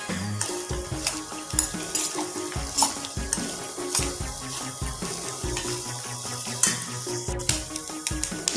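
Grated coconut is stirred and lightly fried in a pan, giving a soft, uneven crackle broken by frequent scraping and clattering strokes of the spoon, close up and alone.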